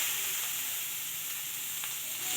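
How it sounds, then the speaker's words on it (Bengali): Spices frying in hot oil for a phoron tempering while making chana dal: a soft, even sizzle and hiss with a couple of faint clicks, with no talk. "এটাও একবার দিয়ে আমি ফোড়নটা করে নিচ্ছি"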